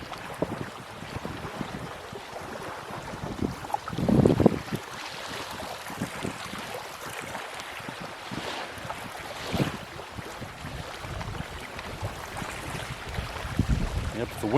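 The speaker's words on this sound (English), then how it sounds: "If the wind would just chill out, that would help things a lot, but it doesn't seem like it's going to." Gusty wind at a woodland camp buffets the microphone in uneven bursts, with stronger gusts surging and fading over steady background rustle.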